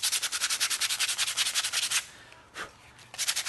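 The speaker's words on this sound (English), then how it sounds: "So what you use, keep using this rough sandpaper" Rough sandpaper rubbed briskly over a carved wooden spoon, a close rhythmic scratching of quick regular strokes that pauses briefly before a few more strokes.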